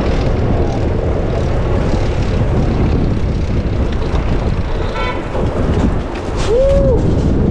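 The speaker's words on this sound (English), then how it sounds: "sounds like a plane." A propeller airplane drones overhead, half buried under heavy, gusty wind rumble that stays loud throughout, outdoors on a windy day.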